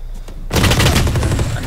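Sustained assault rifle gunfire in a competitive video game match, a loud dense burst of rapid shots that erupts after a quiet half second and runs continuously to the end.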